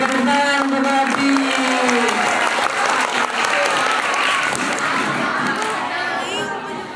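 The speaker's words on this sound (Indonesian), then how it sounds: "tepuk tangan untuk Abi" Children and adults at a gathering with kindergarten and Quran-school pupils break into loud, sustained applause for a child named Abi, with voices audible over the clapping as it slowly fades.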